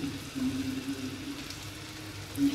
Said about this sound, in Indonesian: Ini kita goreng yang kedua kalinya ya.